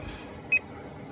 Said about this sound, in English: that's just beeping because it'll shut itself off when there's nothing connected to it